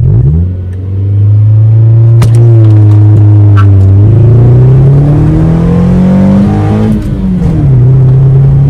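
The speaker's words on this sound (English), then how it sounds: "First gear, give it a bit of a launch." Mazda 323 launching hard in first gear downhill, its engine roaring loud and close as the revs climb steadily, dip briefly at a shift point and rise again, with no talking over it.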